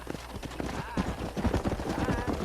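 Horse hooves clip-clopping in Red Dead Redemption, a steady, close trotting rhythm of hoofbeats with a voice speaking over them.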